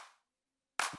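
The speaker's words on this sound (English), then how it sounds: "Toby Green Aden clap that I've used a lot" Punchy clap sample from a music production track, one layer of a clap stack, heard as a short bright crack near the end after a fading tail and a stretch of silence.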